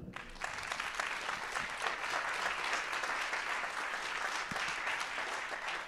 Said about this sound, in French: Donc je pense qu'on peut les applaudir déjà.